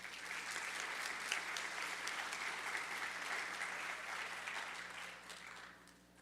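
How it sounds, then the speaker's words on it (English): Audience applause at a scholarship awards ceremony, broadcast live on WPKY, as recipients are named; steady, dense clapping from a sizeable crowd that holds evenly and then tapers slightly at the end. "please hold your applause to the end"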